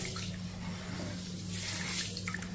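Ragi (finger millet) grains being washed and kneaded by hand in water, a steady close sloshing and swishing of wet grain with running-water texture throughout, no talk.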